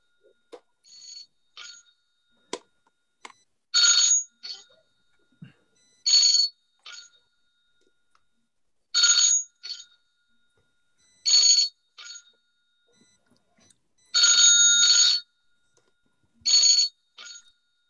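A mobile phone ringtone plays outdoors in cold, clear weather, repeating short bright chiming bursts every couple of seconds, moderately loud and fairly close, with quiet gaps and occasional faint clicks between rings.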